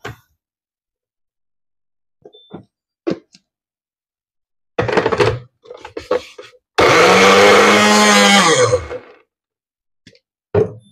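A blender whirs loudly for a couple of seconds between brief knocks and clatters, then cuts off, leaving quiet handling noises.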